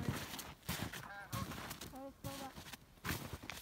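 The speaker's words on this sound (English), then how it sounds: "there's a bird" A goose gives a few short honking calls beside a frozen river, faint and distant under nearby footsteps and crunching, with people talking.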